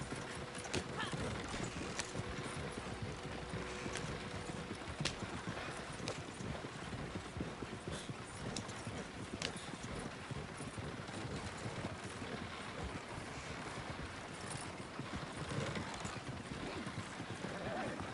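A horse trudges through deep snow in Red Dead Redemption 2 Online on PS5, its hooves thudding in a steady, continuous rhythm over soft game ambience, with an occasional whinny.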